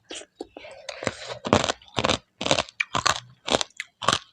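Crispy pork rinds eaten with papaya salad crunch loudly and close up in a steady series of about eight sharp bites and chews, with no talk over them.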